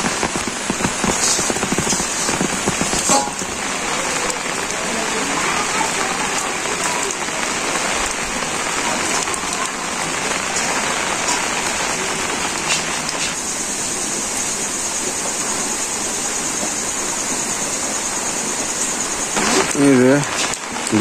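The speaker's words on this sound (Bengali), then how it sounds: "বৃষ্টি আর শেষ নাই, বৃষ্টি আর বৃষ্টি খালি।" Heavy rain pours steadily over a village, a dense continuous hiss of drops on surfaces that stays loud throughout, with a brief clatter near the end.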